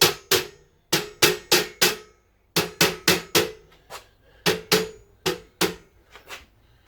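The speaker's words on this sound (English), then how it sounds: "Let's get a rubber mallet." A rubber mallet taps a steel car body panel on a Mk5 Ford Cortina during restoration, striking in quick bursts of three or four sharp knocks separated by brief pauses, fairly loud and close.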